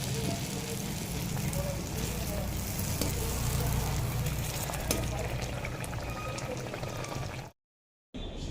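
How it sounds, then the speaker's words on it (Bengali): Mango malpua batter frying in hot oil, a steady close sizzle and bubbling that runs continuously before cutting out briefly near the end. "আবারও একটা দিয়ে দেব একইভাবে পরপর সব ভেজে নেব"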